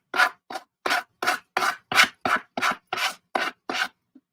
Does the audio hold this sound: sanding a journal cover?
yes